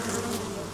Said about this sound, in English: of course, the humming of bees.